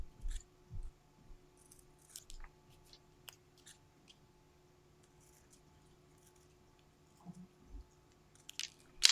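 Scissors snip around a paper shape in quiet, sparse bursts, close but faint, with crisp cuts at the start, now and then in the middle, and at the end.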